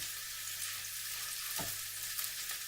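Steady, quiet sizzling and bubbling from turkey meatballs in a pan on the stove, a continuous soft crackle with an occasional small clink.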